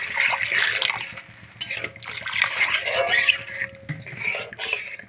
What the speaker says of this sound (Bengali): এখন আমি জল অ্যাড করে দেবো